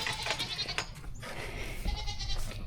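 A goat bleats on a farm, a wavering cry near the start followed by a quieter second call, over low outdoor rumble and shuffling.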